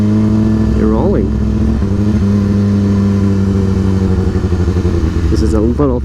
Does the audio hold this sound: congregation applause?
no